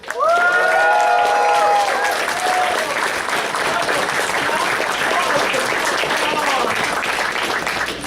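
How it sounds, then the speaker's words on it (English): A large audience applauds and cheers loudly and steadily, with a few whoops near the start, after a host asks for another round of applause at a live stage show. "give him another round of applause."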